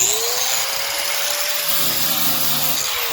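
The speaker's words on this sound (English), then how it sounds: "So now I got to go around with this grinder." A grinder fitted with a grinding pad strips glue from a pontoon boat deck after the carpet has been pulled up, giving a steady, continuous motor whine with an abrasive hiss that holds without pause.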